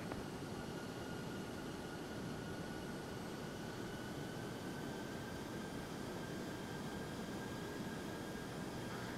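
An aircraft taking off in the Prepar3D v4 flight simulator, a steady, faint, broadband engine roar with a thin whine running throughout, without talk.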